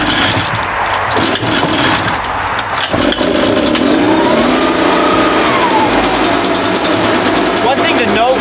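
Echo PB-580T backpack leaf blower engine catching and revving up under light throttle, a loud steady two-stroke drone that rises in pitch midway and holds, with someone talking over the start.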